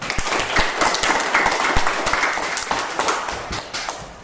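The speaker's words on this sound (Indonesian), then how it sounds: "mari kita beri aplaus untuk Tia." A classroom audience claps for a student, a dense steady patter of many hands that holds throughout at moderate loudness, close and without talk over it.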